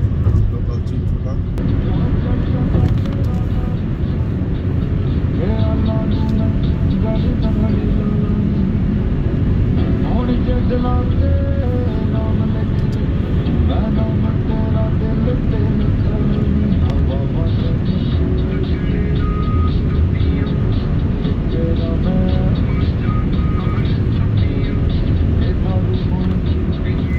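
Morning highway traffic heard from inside a moving car, a dense, constant low roar of engine and tire noise that stays steady and loud throughout without a break.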